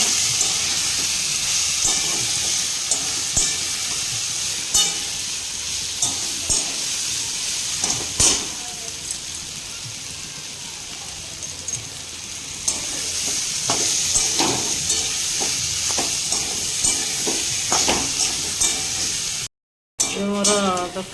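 Paneer curry without onion or garlic stir-frying in a pan, loud steady sizzling with repeated scraping and clattering of a spoon against the pan, a brief cut near the end, and a voice talking at times.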